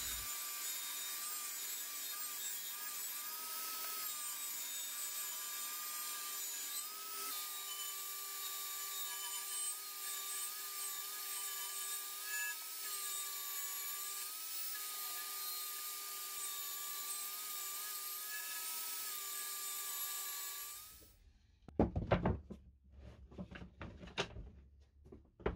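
Steady power saw whine cutting through scrap plywood at a 35-degree bevel for about twenty seconds, a constant loud buzz, then it stops and a few clattering knocks follow.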